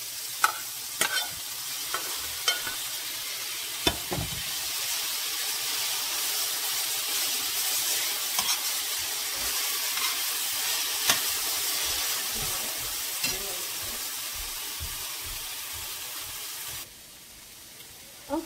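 Boiled, picked saltfish broken into small pieces fries steadily in a pan for Jamaican ackee and saltfish patty filling, a continuous close sizzle broken by scattered scraping stirs and clinks, with no talking.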